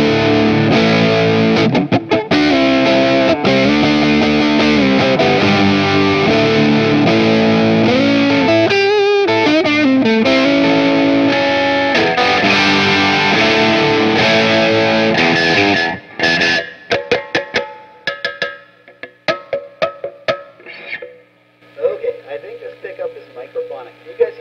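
A cheap electric guitar with high-gain distortion plays chords and riffs loudly, then breaks into choppy, sparse notes with pauses near the end.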